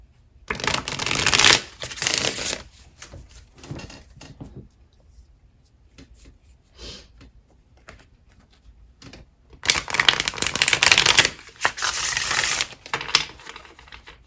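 Tarot cards shuffled by hand in two loud riffling bursts, separated by a stretch of quieter card handling and soft shuffling, with no talk.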